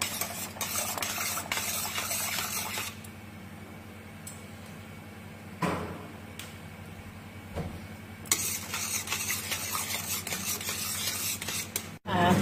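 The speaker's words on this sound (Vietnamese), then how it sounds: "các bạn phải quấy liên tục nhé, không sẽ bị bén ở dưới đáy nồi ấy" Rice flour batter for bánh đúc is stirred continuously in a pot, giving a steady close scraping and swishing texture with a couple of brief pauses and knocks along the way.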